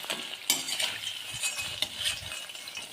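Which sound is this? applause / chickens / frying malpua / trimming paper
frying malpua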